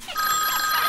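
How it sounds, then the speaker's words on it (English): A telephone bell rings steadily in a short, bright, continuous burst, heard alone and close. "the telephone is ringing"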